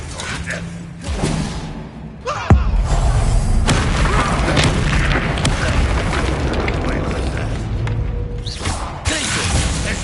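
Spell blasts and explosions in the Hogwarts Legacy video game on PS5, a heavy boom followed by sustained roaring, crackling magical impacts, loud and dense, with a voice shouting spell names over them.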